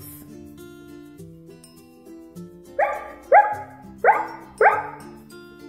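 A toy dog, Pluto the cartoon pup, lets out four short, sharp barks in quick succession near the end, close and clear over a soft background hum.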